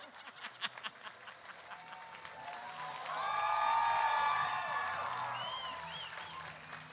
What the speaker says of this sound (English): Give a round of applause for our Loki.